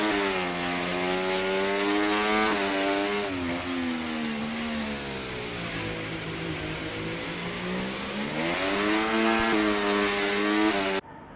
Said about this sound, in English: you can hear the Williams driver just picking up the throttle